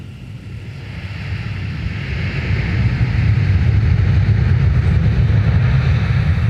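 At MSP airport, a departing aircraft's engine roar builds steadily from moderate to loud and holds as a broad, continuous rumble with no voices.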